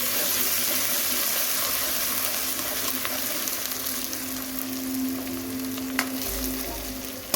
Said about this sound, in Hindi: इसको तकरीबन 1 मिनट तक ब्राउन करेंगे लहसुन अदरक को